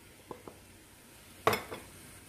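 Chopped onion and celery tip into a pot for a soup. A couple of light clinks come first, then a sudden loud sizzling hiss that fades quickly, close up.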